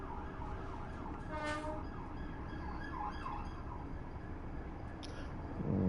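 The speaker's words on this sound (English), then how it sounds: "The police car, I suspect." A police car siren in the Train Sim World 5 railway simulator, a wailing tone rising and falling over a steady rumble of train noise, moderately loud but partly buried in the background.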